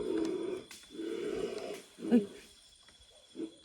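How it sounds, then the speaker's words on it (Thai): A dog barks repeatedly in a forest at night, the low bursts coming in uneven groups with short pauses, fairly near and carrying through the trees. "หมาเราไปเห่าอะไรวะมึง"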